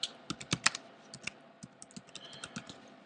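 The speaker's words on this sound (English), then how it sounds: "we can select the company name here and type in whatever we want for the company name" Someone types on a computer keyboard while entering a company name in a DVD Studio menu template, with a quick irregular run of close, crisp key clicks that thin into slower scattered taps.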